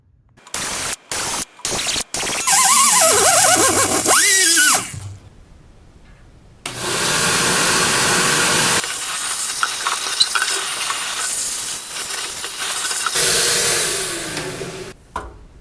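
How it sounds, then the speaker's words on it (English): Angle grinder cleaning up welds on aftermarket parts to make them flat, giving a loud, harsh grinding hiss in two long passes with a short gap between, after a few brief bursts at the start. "I'm just gonna go give them a quick grind cleanup to get them totally flat"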